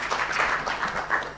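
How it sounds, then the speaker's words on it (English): Conference audience applause, a dense burst of clapping from many hands that swells and then fades over about a second and a half, with no voices over it. "Please give him a round of applause."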